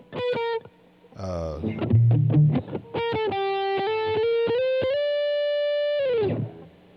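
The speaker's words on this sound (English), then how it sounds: "If I put on distortion" An electric guitar runs through a distortion effect, playing a short run of notes and then holding long, buzzing sustained tones up close in a gospel tune.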